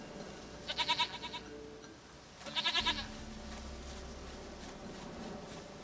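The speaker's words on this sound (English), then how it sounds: "Goat of mine, dearest, sweetest goat." Two goat bleats from a farm animal in The Witcher 3, each a short wavering cry about a second long, separated by a pause, heard alone over quiet game ambience.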